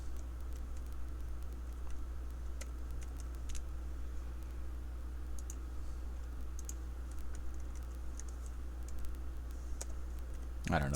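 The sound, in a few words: typing numbers on a keyboard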